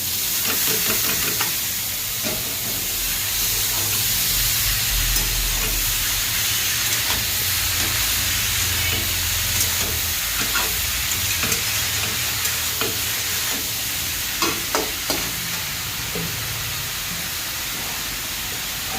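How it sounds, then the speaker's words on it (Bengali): Steady sizzling and hissing of boiled cabbage and potatoes frying in a pan, with occasional stirring scrapes and clinks over a continuous crackle. "এবার এর মধ্যে সেদ্ধ করে রাখা বাঁধাকপি আর আলুটা দিয়ে দেবো"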